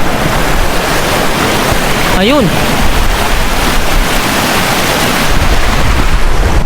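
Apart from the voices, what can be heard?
stream of water flowing into lake in Greenland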